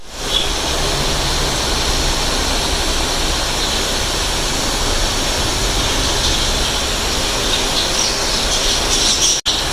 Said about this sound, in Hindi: ये देखिए मसाले की भुनाई हो रही है